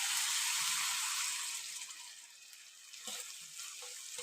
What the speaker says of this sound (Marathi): आता यामध्ये थोडंसं आपण पाणी टाकून घेऊया.